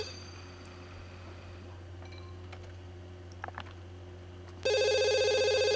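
A telephone rings in The Sims 2 video game, starting abruptly near the end as a loud electronic trill over a steady low background hum and faint game clicks.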